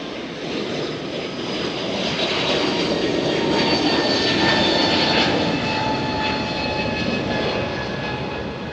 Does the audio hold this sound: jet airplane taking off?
yes